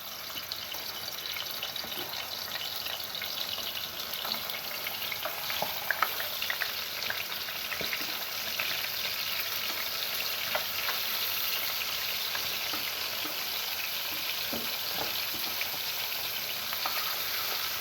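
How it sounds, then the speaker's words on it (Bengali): Fish heads fry in oil in a frying pan, a steady, moderately quiet crackling sizzle that runs unbroken with small pops and no talking. "মাথাগুলো ভাজা হচ্ছে ওখানে।"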